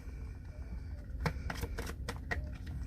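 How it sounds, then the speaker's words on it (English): Tarot cards shuffled by hand in a series of quick riffling bursts over low background hum, close and fairly quiet, with no speech. "I already got these cards. I'm up here shuffling again."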